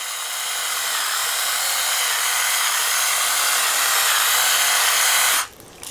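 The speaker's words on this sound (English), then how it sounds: "let's go to a coarse, all the way to coarse. And you see it has a much coarser grind." An electric Flafster kitchen grinder grinds pepper on its coarsest setting, giving a loud, steady high whir for about five and a half seconds before cutting off abruptly.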